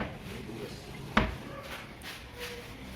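A large wooden kitchen drawer in a custom-built cabinetry kitchen slides and thumps shut once, a single close knock over a quiet room background.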